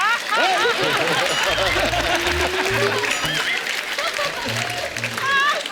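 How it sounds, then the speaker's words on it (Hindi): Crowd applause for actor Akshay Kumar at a stage event: a broad, sustained wash of clapping fills the room at steady loudness, while voices talk and call out over it throughout. "जोरदार तालियां हो जाए अक्षय कुमार जी के लिए।"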